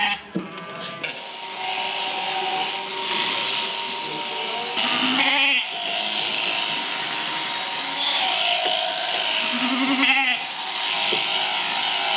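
Several sheep waiting to be shorn by a sheep shearer bleat repeatedly nearby, quavering cries rising over a steady background of farmyard noise and a faint buzzing hum.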